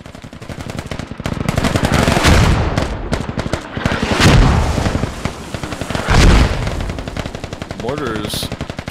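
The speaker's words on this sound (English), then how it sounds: "But another round of mortars coming in." Sustained video-game gunfire with rapid machine-gun bursts and heavy booming mortar impacts swelling loud three times, continuous and dense throughout, with a faint voice underneath.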